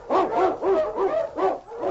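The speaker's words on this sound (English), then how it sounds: "The wonder dog, King, swiftest and strongest of Eskimo lead dogs, blazes the trail through storm and snow" An Eskimo husky lead dog barks in an old-time radio drama, four or five loud, close barks and yelps in a steady rhythm, with no talking over them.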